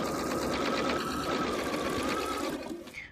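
A sewing machine stitches binding onto a potholder, a continuous close rapid whirring that runs steadily before easing off near the end.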